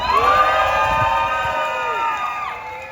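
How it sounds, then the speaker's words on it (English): Outdoors at a street rally, a crowd lets out long, loud cheers and whooping shouts that hold steady and then taper slightly toward the close. "Can we get another round of applause for Miguel,"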